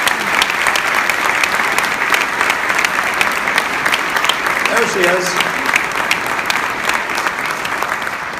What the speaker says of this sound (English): let's give us a round of applause for our Teacher of the Year